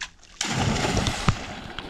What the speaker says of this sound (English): We're gonna jump in the water real quick to cool off.